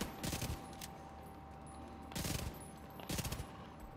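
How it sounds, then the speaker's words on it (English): Pistol shots in a video game ring out in three short, sharp bursts of rapid fire, spaced over a few seconds against a steady low background, with no talking. "I'm gonna insult you by shooting you with my pistol"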